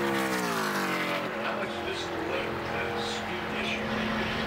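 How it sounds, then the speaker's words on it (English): A NASCAR Camping World Truck Series truck engine revs during qualifying at the Rackley Roofing 200. It is a loud, continuous roar with rising pitch at first, then steady blips of throttle, heard beneath a commentator's talk. "You can hear Haley playing with that throttle a little bit."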